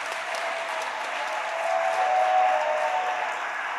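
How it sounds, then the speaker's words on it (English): A round of applause at the EcoCAR Mobility Challenge awards ceremony honours GM and MathWorks mentors: steady, moderately distant clapping from a seated crowd that swells slightly midway, with no talking. "If we could please just get a round of applause for them and the work they've done this past year."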